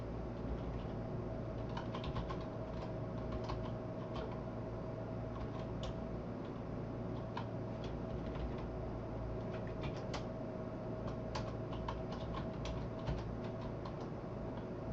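A computer keyboard is typed on in scattered clusters of light, quiet clicks over a steady low background hum, with no voices.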